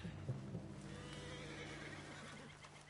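A horse in Red Dead Redemption 2 whinnies faintly over a steady background hum, with soft hoof clops mixed in.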